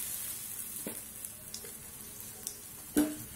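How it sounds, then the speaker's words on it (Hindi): Semolina batter goes into a pan for aloo-tikki-style chaat, giving a faint, steady background sizzle broken by a few soft taps and a sharper clink near the end, with no talking. "मिक्स करने के बाद अपना 1 चम्मच सूजी का घोल लेके हम इसमें डाल देंगे"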